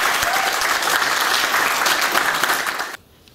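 Audience applause at a taekwondo black belt grading ceremony, a steady dense clapping lasting about three seconds before cutting off abruptly to near silence.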